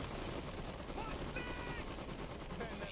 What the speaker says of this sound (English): A lot of SMG fire everywhere.